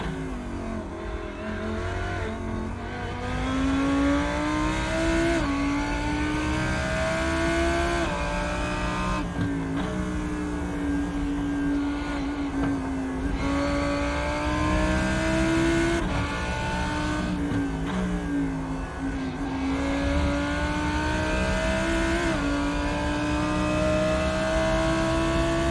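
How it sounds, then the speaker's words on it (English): A Lamborghini Huracan GT3 race car at Monza in iRacing runs loud and steady from the cockpit, its engine note rising through the gears with brief dips at each shift, and it keeps going for about 25 seconds with no talking. "listening to this pure noise of the Lamborghini Huracan"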